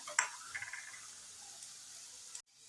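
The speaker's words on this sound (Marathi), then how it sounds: "हे आता याच्यात तुपात चांगलं भाजून घेऊया." Finely grated carrot roasting in ghee gives a faint, steady low sizzle, with a brief clatter of stirring near the start, before the sound cuts off abruptly near the end.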